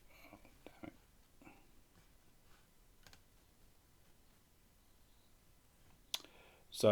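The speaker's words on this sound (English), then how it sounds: "we're going to click on video for this next one" A few scattered clicks of a computer mouse in a quiet room, with a sharper burst of louder clicks near the end.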